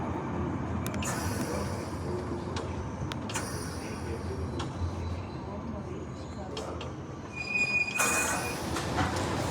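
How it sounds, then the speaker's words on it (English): A London Underground 1973 stock Piccadilly line train heading toward Hounslow Central passes at a station platform, its steady rumble and wheel noise carrying throughout, with clacks, brief squeals and a high tone near the end. "There goes that 1973 stock Piccadilly line train heading towards Hounslow Central"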